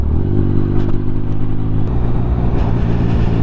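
A Triumph motorcycle rides through Leicestershire, its engine giving a loud, steady, close drone with a slight rise in pitch and faint clatter throughout.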